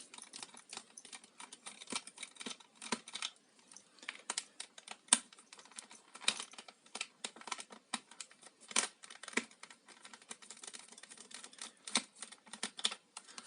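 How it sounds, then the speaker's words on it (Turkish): Two T8 Torx screws being backed out of a Korkmaz A 447 blender: faint, close, irregular small clicks and scratchy ticks from the driver turning in the screw heads, with no talking. "Buradaki iki vidayı söküyoruz."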